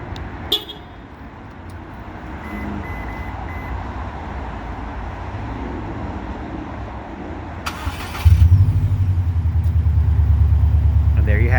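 A 2020 Subaru WRX STI with manual transmission starts remotely from its factory key, a brief beep followed by the engine catching and settling into a loud, steady idle close by.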